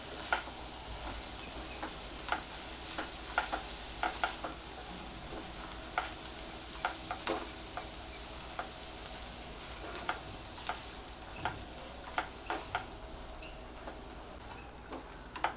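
About a cup of finely chopped fenugreek leaves sautés in a pan, a faint, steady sizzle dotted with light clicks and scrapes from stirring. It runs on quietly for a long stretch with no one speaking.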